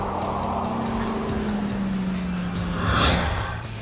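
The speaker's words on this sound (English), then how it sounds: "this is what it looks like at 200 miles an hour" Race car at 200 miles an hour on a closed public highway during the Silver State Classic road race, a steady loud roar of engine and wind with a droning tone, swelling slightly near the end, no voices.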